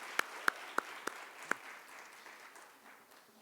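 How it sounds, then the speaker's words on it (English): Scattered audience applause at a nephrology nursing summit, a few sharp individual claps standing out over a soft, fading patter of hands in a meeting hall. "let's give her a round of applause"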